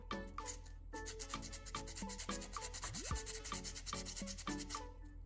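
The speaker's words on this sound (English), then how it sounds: "Only sand lightly to brighten the metal surface again." Metal battery contacts are sanded lightly with short, repeated rubbing strokes in an uneven rhythm, close and fairly quiet, with no voices.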